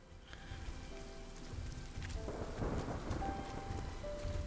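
Thunder rumbles over steady heavy rainfall in the video game RIME, a broad continuous downpour that swells louder partway through, with no voices.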